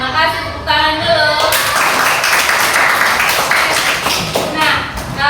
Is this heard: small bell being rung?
no